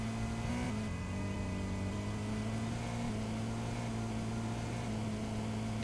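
Car engine in a Turkish open-world driving game, a steady low drone that holds evenly throughout with a slight pitch shift near the start, loud and continuous with no talk.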